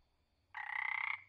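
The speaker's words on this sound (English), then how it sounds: "Mountain mist frog." Single call of a mountain mist frog: a steady, evenly pulsed buzzing trill held for about two thirds of a second, loud and near, with only a soft low rumble behind it and no speech.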